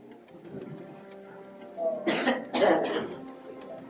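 Two or three sharp, close coughs in quick succession near the end, rising out of a quiet room with faint background murmur.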